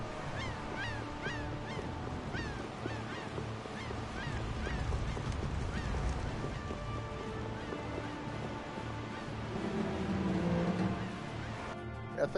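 Seagull and goose-like honking calls repeat in quick bursts over a steady wash of ocean waves in a seaside area of Tales of Vesperia, the cries loud and close while the surf rumbles continuously underneath.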